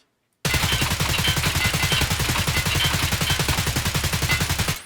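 Scoped rifle fire in the video game Escape from Tarkov starts abruptly after a short silence and continues as a loud, rapid, evenly spaced burst of shots that lasts several seconds.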